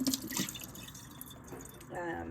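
Water dripping and splashing off homemade butter as it is squeezed after its final rinse in a kitchen, brief wet spatters at the start and again near the end, close and moderately loud.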